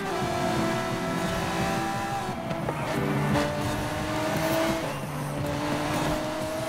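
A Pagani supercar races in Forza Horizon 5, its engine holding a steady loud drone with shifting pitch, tire noise and other cars around it throughout.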